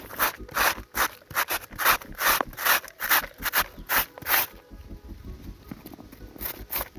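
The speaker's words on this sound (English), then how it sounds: "let's begin by grating our cabbage" Cabbage rasps against a hand grater in quick, rhythmic scraping strokes, loud and close, about a dozen even passes before the strokes soften and slow near the end.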